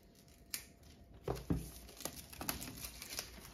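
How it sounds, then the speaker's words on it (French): Plastic wrap being torn and crinkled off a MacBook Pro 13-inch 2020 M1 box, a few sharp rips and rustling crackles, close and fairly quiet. "Donc on va de suite ouvrir le plastique."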